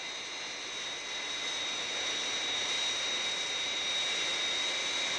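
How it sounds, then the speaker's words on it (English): Fireflash jet airliner on final approach, a steady roaring jet engine whine with high tonal harmonics, growing slightly louder, heard alone as a television sound effect. "Aircraft approaching glide path 5 miles to threshold"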